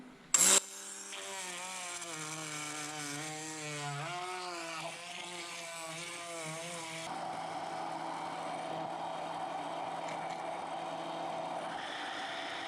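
A blender grinds ingredients with a little water for a spicy fish stew, starting with a brief loud burst, then a whining motor that wavers in pitch before settling into a steady, rougher roar.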